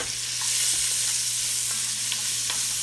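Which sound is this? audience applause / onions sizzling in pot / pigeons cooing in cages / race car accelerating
onions sizzling in pot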